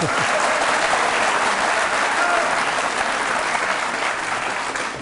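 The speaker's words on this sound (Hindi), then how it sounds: "जोरदार तालियां बजाइए।" An audience at a televised courtroom-style interview show breaks into loud, sustained applause, a dense wash of clapping that stays full for several seconds and then begins to taper slightly toward the end.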